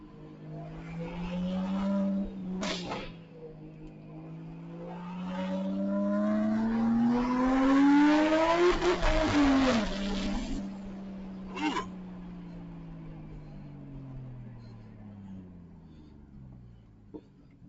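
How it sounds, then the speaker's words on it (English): US-spec Toyota Supra MK5 driven in South Korea, its engine revving up in a rising whine to the rev limiter, where it stutters briefly before settling back down, loud and close inside the car. "hit the rev limiter on that bitch, bro"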